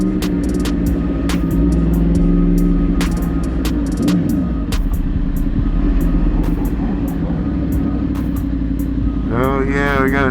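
Suzuki GSX-R motorcycle rolling into a bike meet, its engine a steady mid-range drone among other idling bikes and cars, with people talking nearby throughout.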